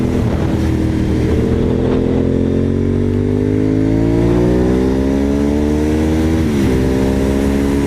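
A motorcycle engine revs loud and close, its steady roar climbing in pitch, dipping briefly near the end, then pulling again. No voices are heard.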